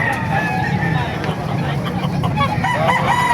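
A gamecock crows at an outdoor chicken market in Calumpit, Bulacan, its call rising clearly over a busy background of clucking fowl, crowd chatter and nearby people talking.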